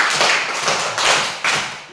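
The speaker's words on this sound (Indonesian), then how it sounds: "1 kali tepuk tangan, 2 kali tepuk tangan, 3 kali tepuk tangan, 4 kali tepuk tangan." A school class claps hands together in loud, close bursts, with three or four grouped clap clusters that have a slightly uneven rhythm.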